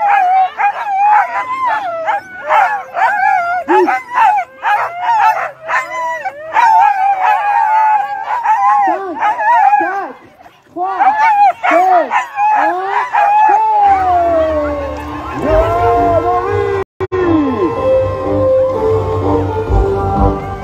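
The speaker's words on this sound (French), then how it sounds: "Écoutez le chant des chiens de Johan." Sled dogs howl in a loud, sustained chorus at a snowy dog-sled race start at Châtel-Pré la Joux, with rising and falling wails and yips repeating for about twenty seconds, then giving way to rumbling noise and overlapping yelps.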